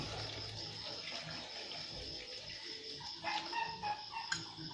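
Cooked spicy Korean ramen being drained, water running steadily out of the pot in a continuous splashing stream, fairly close, with a few brief clinks near the end.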